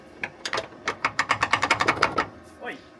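Rapid ratcheting clicks from a hand tool tightening a part on a Mazda Miata with a welded shock, a quick burst of about a dozen close, loud sharp ticks with a brief voice at the end.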